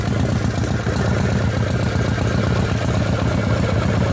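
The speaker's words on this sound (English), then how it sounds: "You guys smoothed up the idle a little bit?" A 1979 Harley-Davidson Shovelhead 80ci engine idles close up, a loud, steady, throbbing low rumble with an even lumpy pulse and no pauses.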